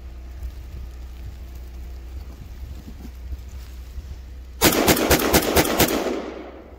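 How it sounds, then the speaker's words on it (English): Gunshots fired at a snowman outdoors: a loud cluster of rapid cracks bursting in after several seconds of steady wind and low rumble, fading quickly at the end. "We need a shotgun for that kind of crap."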